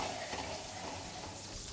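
Black olives and an anchovy fillet sizzling in a frying pan for a tuna pasta sauce, a steady close hiss and crackle with no talking.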